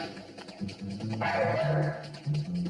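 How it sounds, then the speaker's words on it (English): A dog barks back at its owner indoors during a scolding, a run of several short, loud, close barks and yips in an uneven rhythm, with some background noise. "When I scold her, Macy barks at me"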